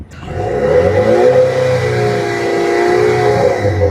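Chevrolet Camaro RS turbocharged engine revving, a loud, sustained mid-pitched roar that rises and holds steady for about four seconds, with no talking over it.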